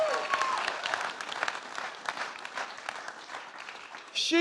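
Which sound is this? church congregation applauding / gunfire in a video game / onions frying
church congregation applauding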